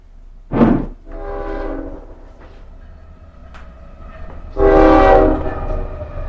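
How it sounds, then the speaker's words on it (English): A train passes, sounding its horn in a short blast followed later by a longer, louder blast over a steady rumble, heard from a moderate distance. "You hear the train?"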